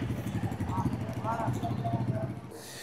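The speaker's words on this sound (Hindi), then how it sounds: "तो अभी बाइक को हम थोड़ा वहाँ पे पार्क करते हैं।" A motorcycle engine rumbles steadily at low pitch on a ride between Haldwani and Rishikesh, heard close and continuous beneath ongoing talk.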